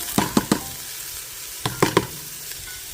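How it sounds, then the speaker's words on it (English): Celery goes into a pot of keto seafood chowder: a few quick clacks and taps of pieces dropping and being stirred, in two short clusters over a soft, low simmering background. "So now I'm going to add the celery."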